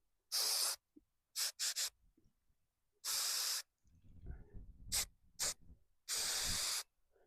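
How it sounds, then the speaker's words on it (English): Several sharp bursts of aerosol cleaner spray onto engine sensors of a GMC Sierra or Chevy Silverado 5.3 hiss in quick succession, some short and some sustained, separated by quiet pauses and faint handling noises. "Shake it up. Start spraying it."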